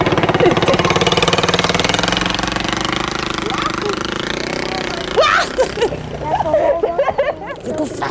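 A motorcycle engine runs with a rapid, rattling idle for several seconds, then people begin talking over it as it continues.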